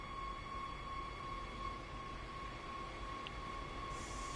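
A train rolls along in a video game, a faint steady rumble with a high sustained whine and hiss, no voices.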